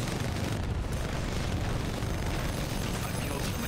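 Weapon fire blasts into a Reaper in the video game Titanfall 2, a dense, continuous roar of explosions and gunfire that fills the whole stretch at steady loudness.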